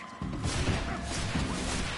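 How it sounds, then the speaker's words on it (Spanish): A cannon shot slams into the player character in the open-world RPG Greedfall, a loud broadband crash that keeps rumbling heavily for about two seconds. "El cañonazo que me acaban de dar"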